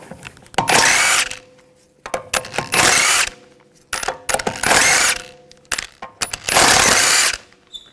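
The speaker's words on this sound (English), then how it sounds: "Using a 17mm socket, take the lug bolts out." A power tool with a 17mm socket spins lug bolts off the rear wheel of a 2011-2018 Volkswagen Jetta, giving four loud, close whirring bursts of about a second each, separated by short pauses with small clicks and clanks. No one speaks.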